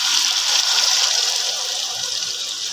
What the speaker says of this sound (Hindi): अब हम इसमें थोड़ा सा पानी डालकर